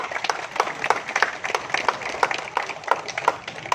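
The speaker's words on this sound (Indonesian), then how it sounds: "Tepuk tangan dulu." An outdoor audience at a military field kitchen event applauds, with scattered, fairly soft claps that pulse unevenly throughout.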